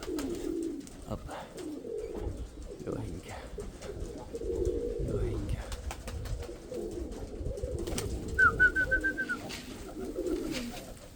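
A pigeon coos low and steady in a loft, with murmured voices and ambient clatter over it, plus a brief higher call near the end.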